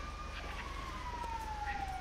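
An ambulance siren in GTA5 wails steadily in one long, slowly falling tone, fairly faint against a constant low engine rumble, with no talk over it.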